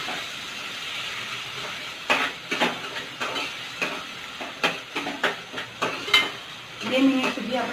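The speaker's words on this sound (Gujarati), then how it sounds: "હવે આપણે કાંદા બ્રાઉન કલરના થાય ત્યાં સુધી અને સાતળી લઈશું." Onion, chili and ginger paste sautéing in a pan with a faint steady sizzle, punctuated by a series of close spoon scrapes and knocks against the pan, with a voice speaking briefly near the end.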